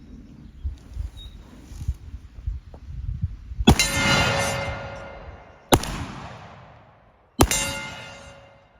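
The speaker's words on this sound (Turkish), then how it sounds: "YAF 32 gram fişek deniyoruz şu anda. Airbox XA4'ümüzle." An Ermox XA4 shotgun fires YAF 32 gram shells at a steel target about 20 to 25 meters away outdoors, three loud sharp blasts spaced a few seconds apart, each followed by a fading echo.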